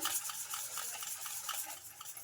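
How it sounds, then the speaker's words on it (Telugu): A spoon stirs powdered sugar into a mixture in a bowl, making quiet, steady scraping and rubbing strokes in a regular rhythm, close up and with no talking. "స్పూన్తో కానీ ఇలా విస్కర్ ఉంటే విస్కర్ కానీ ఏదంతైనా కలుపుకోవచ్చండి బాగా మెల్ట్ అయ్యే వరకు బాగా కలిపేసుకోవాలి"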